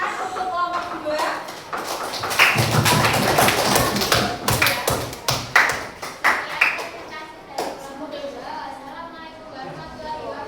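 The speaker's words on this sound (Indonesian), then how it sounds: "tepuk tangan untuk kelompok 2" Classroom applause for a student group: bursts of uneven hand claps and taps from a small group, close and fairly loud, with voices talking over and between the claps.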